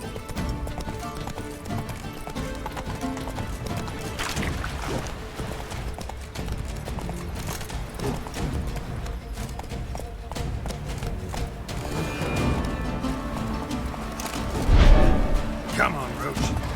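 Hoofbeats of the horse Roach galloping in the video game The Witcher 3, a rhythmic clip-clop under background game sounds and music, with occasional thuds and a voice speaking over it.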